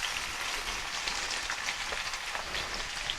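Onions fry in oil in a pan for an anchovy brinjal curry, giving a steady, close, dense sizzle with crackling spatter and no voices.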